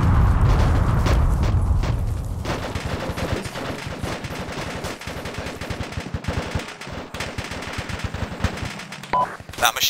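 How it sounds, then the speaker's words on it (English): Machine gun fire in Arma 2, dense rapid bursts that start loud and heavy over a low rumble, then continue as steady rattling volleys with brief gaps throughout. "That machine gun on the top of that position is still up, we need to take that out"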